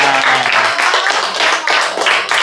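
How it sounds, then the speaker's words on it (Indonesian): A class of students claps hands together in an Indonesian eighth-grade social studies lesson, giving loud, close, fast rhythmic bursts that fill the whole moment. "Iya, tepuk tangan."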